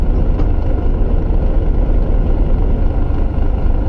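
A bus engine in Bus Driver Simulator 2019 rumbles at a steady low idle, a constant dull drone with no distinct revs, sitting alone in the background.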